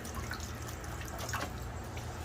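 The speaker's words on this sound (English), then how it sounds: "gravity is definitely pushing the coolant out right now to the bucket" Engine coolant from a 2009 Shelby GT500 draining by gravity into a bucket, a faint continuous trickle and drip under a low steady hum, no talking.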